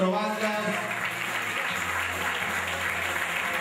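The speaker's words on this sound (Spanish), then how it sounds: "Y la verdad, otro fuerte aplauso para las cuatro bandas." Audience applause for four bands at a band contest awards ceremony, a steady dense wash of clapping holding at even strength throughout with a faint low hum beneath.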